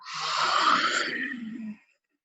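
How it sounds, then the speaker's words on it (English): A person breathes slowly during a calm breathing exercise, one long, close, airy breath with soft sighing texture lasting about two seconds, then quiet, with no talk. "So breathing in and out."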